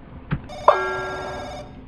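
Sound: telephone ringing in the video game The Crooked Man

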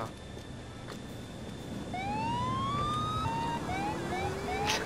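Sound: police car siren in video game GTA IV

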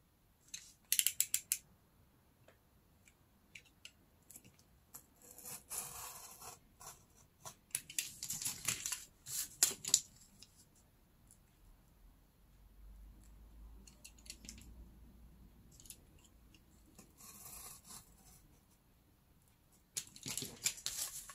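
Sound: cutting paper card along a ruler

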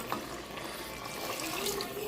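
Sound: water being poured into a pot for village chicken biryani

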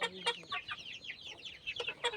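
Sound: chickens and chicks clucking on a farm

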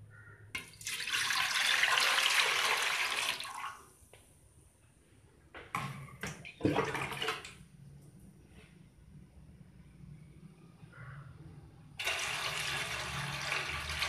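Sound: water being poured into an idli steamer pot

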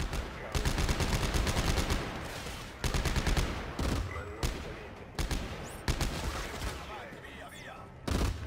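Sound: explosions and gunfire in video game Dead Space 3

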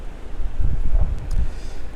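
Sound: strong wind

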